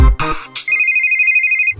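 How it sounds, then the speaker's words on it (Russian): A telephone ringtone sounds as one steady electronic tone lasting about a second, close and clear, right after a short burst of clattering noise. "Телефон. Да, телефон."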